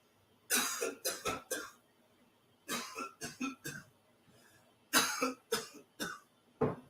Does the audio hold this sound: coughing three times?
yes